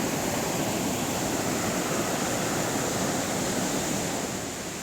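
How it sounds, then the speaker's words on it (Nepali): Bhim Khola waterfall (chhanga), a hidden natural waterfall, roaring in a dense, steady rush of falling water that stays loud and close throughout, with no voices. "हामी यहाँ एउटा नेचुरल वाटरफल दामी छ छाँगा भन्छौँ हामी यसलाई सो भीम खोलाको छाँगा"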